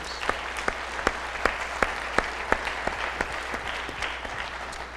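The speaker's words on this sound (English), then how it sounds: "How about a round of applause for all of these great teams?" An audience at a university fall semester opening session applauds award nominees, a sustained wash of clapping with sharp individual claps standing out, moderately distant, with no speech.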